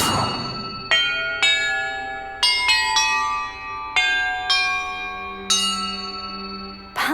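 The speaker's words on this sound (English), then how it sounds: "the map contains clues about the order I'm supposed to ring the bells in" Bells in Hogwarts Legacy ring out one at a time in an irregular sequence of about ten clear, resonant strikes, each tone ringing on and overlapping the next, with no voices.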